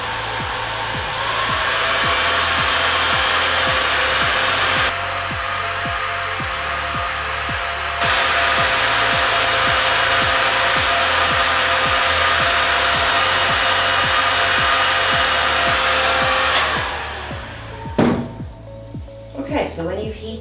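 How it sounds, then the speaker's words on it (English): Heat gun blowing steadily while dry-heating Aquaplast-T thermoplastic splinting material, a loud continuous airy roar that cuts off near the end, followed by a few handling knocks. "So I'm just going to use the heat gun, slowly from the base."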